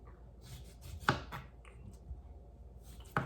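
A knife chops through fresh lemons on a board, giving two sharp, close cuts about two seconds apart over quiet background noise.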